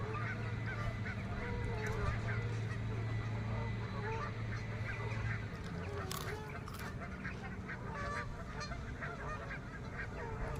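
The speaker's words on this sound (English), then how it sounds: "it's the Canadian geese that's so loud" Many Canada geese honk and cackle together in a noisy, sustained chorus, close by, with a faint low drone in the background.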